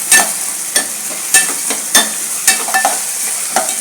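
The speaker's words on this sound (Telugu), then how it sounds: "కొంచెం పచ్చివాసన పోయే విధంగా వేపుతున్నాను." Masala with tomatoes, coriander and chickpeas fries in a pan for a chana chicken biryani, with a steady close sizzle broken by regular scraping stirs roughly every half second.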